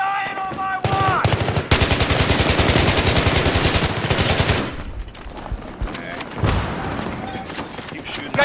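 Rapid automatic gunfire from a Battlefield 3 match on the Metro conquest map, loud sustained bursts with scattered single shots, then quieter battle noise, with someone talking over it.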